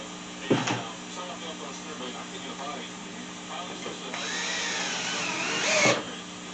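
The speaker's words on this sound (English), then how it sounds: "I'm going to drill some holes." A power drill boring holes into a wooden dog training platform before 2 inch deck screws go in, a sharp bit bite early on, then a rising whining drill run near the end, with someone talking in between.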